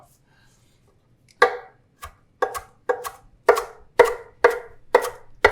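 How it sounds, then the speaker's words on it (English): Knife rough-chopping fresh cilantro on a cutting board, with about nine sharp, close chops in an uneven rhythm that quickens toward the end, after a brief spoken word. "You want to do a rough chop because you want people to immediately see and know that it's cilantro."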